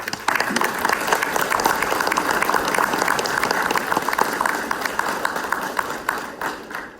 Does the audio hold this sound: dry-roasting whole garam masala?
no